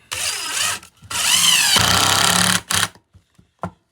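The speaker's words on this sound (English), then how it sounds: "Drills the pilot hole so I don't split the pine." Power drill boring a pilot hole into pine for a homemade roof snow pusher, loud whining bursts: a short run, a long sustained drilling stretch with a dropping pitch, then a few brief trigger blips.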